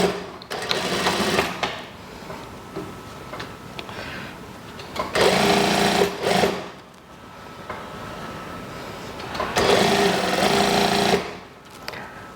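A sewing machine stitching a kimono-style daster dress runs in three bursts of rapid whirring, each several seconds long, separated by quieter pauses with faint handling noises.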